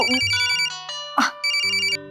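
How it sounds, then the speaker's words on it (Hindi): A mobile phone ringtone plays a bright electronic melody of repeating tonal notes, close and clear, in a short looping pattern. "उन्हीं का फोन है, लो सुनो"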